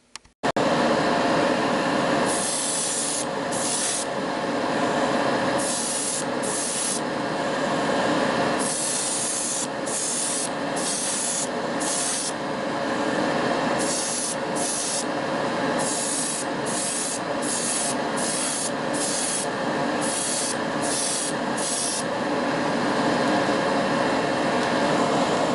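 Silver sealer is sprayed from a can onto a diecast car body in repeated hissing bursts, each a few seconds long and separated by short pauses, steady and close throughout.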